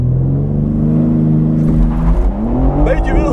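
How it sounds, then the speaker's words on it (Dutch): A BMW M4 xDrive launches hard from a standstill using launch control in first gear on winter tyres, its engine rumbling loudly and building in pitch, close by with a voice talking over it. "Met die X-Drive kunnen we gewoon in de eerste versnelling launch control gebruiken."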